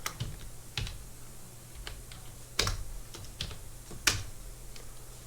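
Python code is typed on a computer keyboard for Blender 2.91, sparse individual key taps with a couple of sharper presses, close and fairly quiet over a low hum, with no talk.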